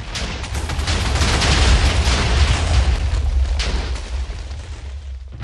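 An explosion in the Minecraft video game, a loud rumbling blast that rolls on for several seconds and slowly fades, with no talking over it.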